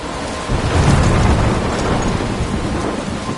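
Thunderstorm with heavy rain in the Life is Strange video game, a dense steady roar of rainfall with a low rumble of thunder swelling after the first half second, loud and continuous with no voices.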